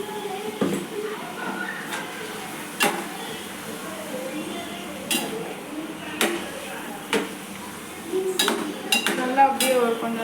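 Spoon scrapes and knocks against a pan while grated coconut is stirred for a chickpea kootu, sharp intermittent clacks over a faint background with a voice talking.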